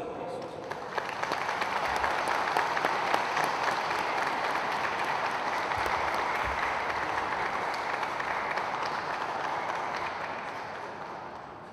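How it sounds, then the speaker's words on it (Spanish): A wedding congregation applauds the apostles, with steady, dense clapping from a large crowd that swells and holds for several seconds before tapering slightly, lively and fairly near. "Un fuerte aplauso a los apóstoles."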